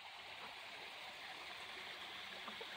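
Clear water from the hill flows under a small footbridge at a motorhome meetup in Pomerode, Santa Catarina, as a steady, faint, even rush of a small stream with no other sounds.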